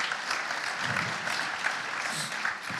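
A conference audience claps for the speakers at a building-industry convention, a dense, steady wash of applause lasting throughout, close and fairly loud.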